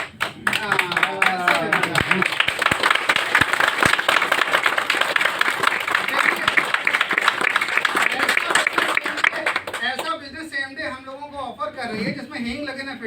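An audience at a company gathering for Sameday Infratech Limited claps in a dense, loud burst of applause that carries on for several seconds, then thins out as a voice speaks over the last stretch.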